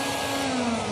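A regular standard vacuum cleaner runs with a loud, steady motor drone and a continuous whining tone, close by, with no talk.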